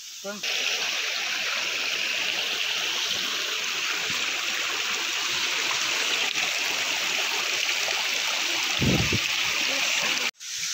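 A continuous, broadband rush of flowing water, like a small cascade, runs steadily throughout with a brief low thump partway through.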